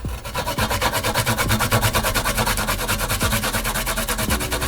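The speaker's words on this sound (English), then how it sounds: "you want to grind up your ginger" Fresh ginger is rubbed quickly against a grater in a home kitchen, making a fast, steady run of rasping scrapes that repeat in an even rhythm, close and loud, with no voices.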